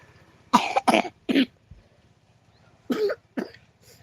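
Several sharp coughs from one person in two bursts, three close together and then two more after a short pause, loud and near with a faint background hum between them.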